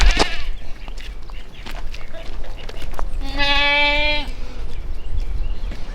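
A baby goat gives a single clear bleat lasting about a second, close by, amid faint rustling and scattered clicks in a quiet barn.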